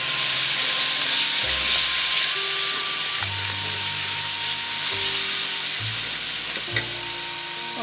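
Onion paste fries steadily in a pan for a chicken liver and peas curry, a continuous loud sizzle broken by scraping stir strokes and low tonal hums throughout.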